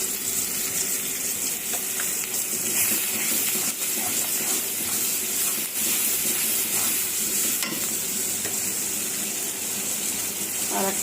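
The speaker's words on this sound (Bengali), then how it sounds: "এই যে রসুন পেঁয়াজ বাটা দিয়ে দিলাম" Garlic and onion paste hits hot oil in a home kitchen pan, giving a steady loud sizzle with occasional stirring scrapes throughout.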